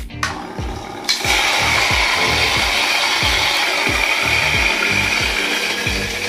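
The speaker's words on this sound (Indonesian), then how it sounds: "Kita giling, kita ambil ukuran tertentu untuk saring." An electric grinder grinds roasted coffee beans into a set grind size for filtering, starting with a short burst and then running as a steady, loud, dense whir with a rhythmic low clatter of beans, no voices.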